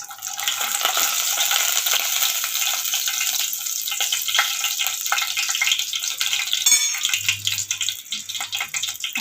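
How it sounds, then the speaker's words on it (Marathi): Cumin and mustard seeds hit hot oil for kadhi, giving a steady, close, crackling sizzle that continues without pause and without speech. "बघा, मी जिरं आणि मोहरी टाकून घेतलेले आहे त्याच्यामध्ये."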